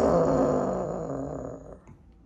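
A low, raspy growl from a woman, one sustained breath that fades out, imitating a mother cat's warning growl at a kitten.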